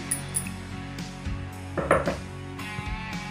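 Ground thuthuvalai leaf paste, blended with tamarind and salt for pickle, is tipped into a kitchen pan, giving a quiet clatter and a brief scraping clunk of utensil against metal.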